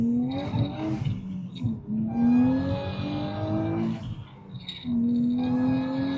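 A tuned Nissan Z in performance mode accelerates hard in first gear, its engine revving loudly with rising pitch sweeps interrupted by shift dips, heard close in the cabin without talk.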